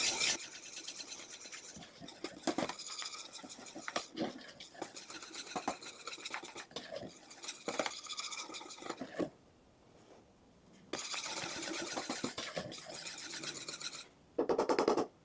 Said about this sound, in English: Now we're going to whisk this until all the butter has dissolved.